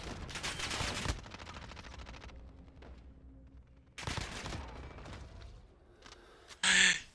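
Shooter game gunfire: two loud bursts of shots separated by quieter stretches of echoing ambience, then a sharp final crack, with no talking.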